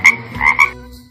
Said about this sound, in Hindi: फ्रॉग